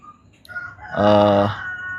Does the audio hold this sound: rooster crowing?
yes